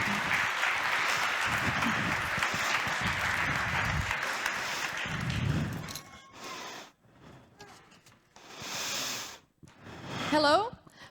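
An audience at an innovation conference applauds in a broad, dense wash for about six seconds to welcome a presenter, then the clapping fades into quieter, scattered sounds and some talk.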